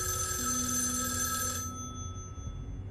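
A ringing telephone in the video game Erica, a bright continuous bell that cuts off after about a second and a half, leaving a low steady background hum.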